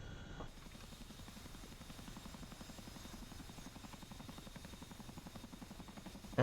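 Steady, close rotor thrum of a CH-47F Chinook tandem-rotor helicopter in DCS World, sustained and even throughout with a brief louder burst at the very end; the ramp mechanism itself is not distinctly audible.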